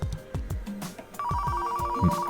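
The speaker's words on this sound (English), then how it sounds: "we're gonna let the phone ring" A telephone rings repeatedly inside a car repair garage in Car Mechanic Simulator 2015, with a bright electronic bell tone sounding in a steady rhythm over low shop background noise.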